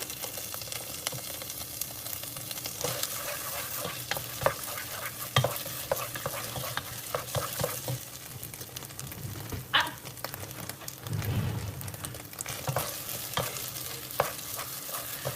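Olives frying and being stirred in a pan, a steady sizzle with repeated scraping and stirring clatter throughout, close and continuous with no talk.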